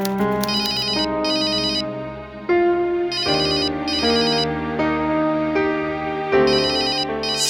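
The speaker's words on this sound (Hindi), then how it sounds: "फोन बज रहा है तुम्हारा।" A mobile phone ringtone plays a bright, repeating electronic melody, steady and fairly loud, looping through several phrases with no voices over it.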